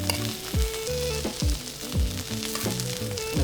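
Potatoes with garlic, thyme and rosemary sizzle in a hot pan, a steady frying hiss broken by several quick stirring scrapes, close and moderately loud, with no talking.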